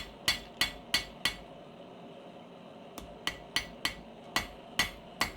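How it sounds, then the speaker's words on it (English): Hammer blows on forged steel tweezer stock, flattening the ends: two sets of sharp, ringing metallic strikes, four then seven, in steady rhythm, close and distinct with a pause between them. "After flattening one end, I just taper down the other end"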